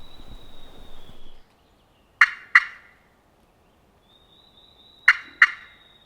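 Two wild turkeys gobble on public land, each call a sharp double burst heard twice and well apart, fairly near and loud against otherwise quiet air.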